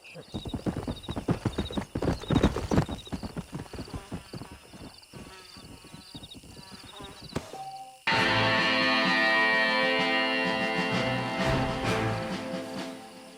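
Horse hooves clip-clopping in the Red Dead Redemption video game, a steady close rhythmic trot for several seconds, then giving way to louder game music and sound.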